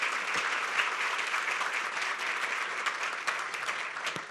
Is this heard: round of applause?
yes